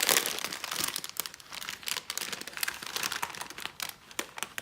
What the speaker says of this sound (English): we're gonna start by pouring in the paper worms